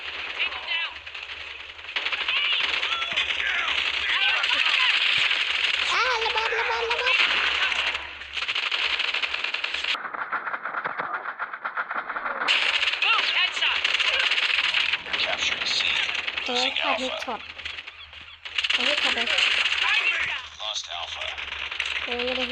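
Automatic QRX gun fire in a video game, sustained rapid bursts across most of the stretch with short pauses, loud and close, with game sounds and occasional voices mixed in.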